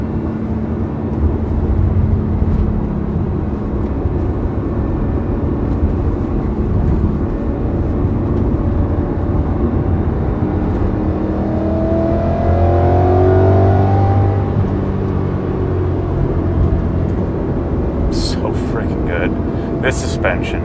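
A BMW E92 M3 engine while driving, a steady loud drone inside the car with one swelling acceleration pass midway, broadband road and wind noise throughout, plus short clicks near the end.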